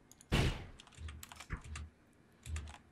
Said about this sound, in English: I could hear your keyboard clicking